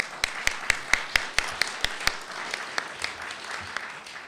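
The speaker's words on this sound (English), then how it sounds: "And applaud, of course." An audience at an international housing conference applauds as a panel member is welcomed to the stage, crisp individual claps standing out over a thin spread of clapping that slowly fades.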